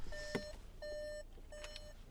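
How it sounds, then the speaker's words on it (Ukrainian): A 2020 Volkswagen Tiguan 2.0 TDI's warning chime beeps three times in a steady rhythm, clear and close in a quiet cabin, sounding because the engine was left running with the driver out. "це машинка свариться, що я залишив її запущену і вийшов"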